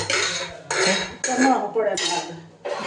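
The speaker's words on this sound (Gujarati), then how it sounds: "હા હવે તો થાળી ગોઠવે" Plates being set out on a home table, with repeated bursts of dish clatter and metallic clinks that come in several loud clusters, close by, with a brief pause between each.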